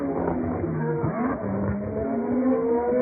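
Formula 1 car engines, the McLarens of Senna and Prost, wail continuously at high revs on the straight, pitch shifting as they pass, heard through a broadcast.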